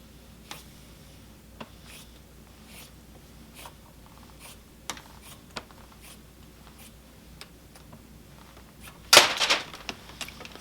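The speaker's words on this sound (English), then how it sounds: "There's the other S-hook falling." A metal S-hook weight falls off the back of a weaving loom. Faint scattered ticks and taps lead up to a louder, short metallic clatter near the end, in a quiet room.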